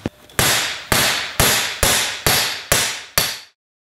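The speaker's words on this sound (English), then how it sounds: "It's time to see if we can drive those bolts out of that cylinder head." Seven loud, evenly spaced hammer blows ring out sharply as stuck bolts are driven out of a Honda CB750K cylinder head, each strike decaying before the next, with no talking.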